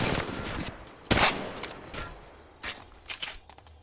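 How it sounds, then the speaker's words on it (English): Apex Legends Mobile gunfire comes as a loud burst of shots, followed by several shorter, weaker volleys and a few clicks and steps. "Listen up, I'm getting shot at"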